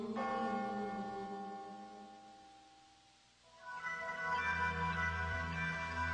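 Church bells ring out with rich sustained tones that fade, then a fresh peal of several overlapping bells swells back in, moderately distant and alone.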